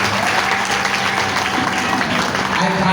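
Dense audience applause and clapping from a crowd at a gala night, steady and loud throughout with no pauses.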